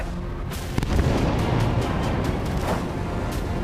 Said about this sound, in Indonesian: Ledakan akibat serangan udara militer Israel kembali terjadi di kota Gaza